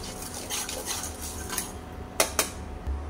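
A spoon scrapes and clinks against a pan as turmeric and spices are stirred into tempered mustard seeds, cumin and asafoetida, with soft scraping and two sharp metallic taps near the end.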